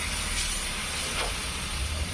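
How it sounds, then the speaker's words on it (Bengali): Hot water poured into a hot kadai during a Bengali fish curry with beans and potatoes, giving a steady steamy hiss that holds close and even throughout. "কড়াই দিয়ে দিচ্ছি গরম জল"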